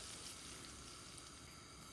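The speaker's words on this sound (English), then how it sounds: "Can we get a block of butter in the pan to sizzle away?" A block of butter sizzles in a hot pan with a steady, even hiss and crackle throughout. The sound is fairly quiet and close, with no talking.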